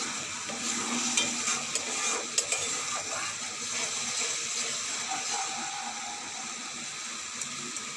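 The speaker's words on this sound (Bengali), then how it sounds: "সয়াবিনের মশলাটা কষা চলছে বন্ধুরা" Soybean curry masala is sautéed in a pan, a steady close sizzle and hiss with occasional light scraping and clinking of a spoon against the pan, continuous and moderately loud with no talking.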